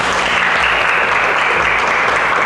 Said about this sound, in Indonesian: Kita berikan tepuk tangan untuk semuanya.